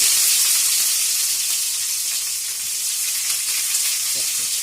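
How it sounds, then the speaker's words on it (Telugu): Onion pieces and shahjeera fry in hot oil for pudina rice, giving a steady, dense sizzle and crackle throughout, close up and uninterrupted by talk. "ఇవి వేగాక దీనిలోకి ఉల్లిపాయ ముక్కల్ని యాడ్ చేయండి."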